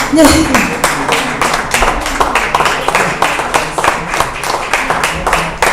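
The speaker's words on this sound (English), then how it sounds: "Continue clapping, they're still coming." An audience at a graduation ceremony claps steadily as graduates keep arriving. The clapping is close and continuous with sharp, rhythmic hand claps, and a voice speaks briefly underneath.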